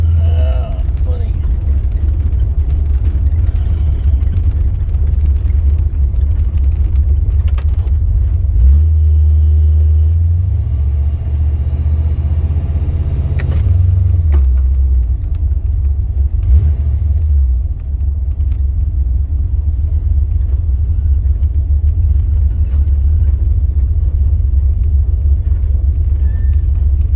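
A Cougar car's engine rumbles low and loud while driving, rising and falling as it works through the gears, with talk heard over the continuous drone.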